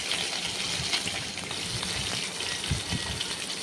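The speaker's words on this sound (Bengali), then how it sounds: "ভেজে নেওয়া মাছগুলো দু পিট ভালো করে ভেজে ভেজে নিচ্ছি" Fish pieces fry in hot oil in a pan, turned to brown both sides while cooking a fish-head rice dish. A steady, close sizzle and crackle runs throughout with no voices.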